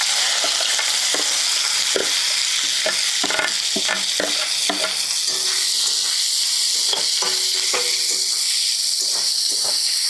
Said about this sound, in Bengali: পেঁয়াজটা হালকা ভাজা করে নিই।